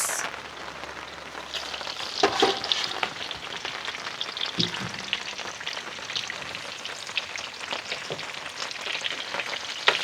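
Seasoned meat frying in its own rendered fat at an outdoor campsite on a mountain, a steady crackling sizzle with sharper spits and pops, close and fairly loud throughout, with no voices.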